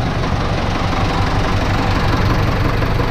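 An LS Plus 80 tractor engine runs continuously while driven on an unpaved road, a loud, steady low diesel rumble with a rhythmic knocking pulse and vibration throughout, no talking.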